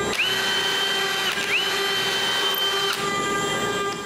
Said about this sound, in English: Now I need to mark and drill pilot holes.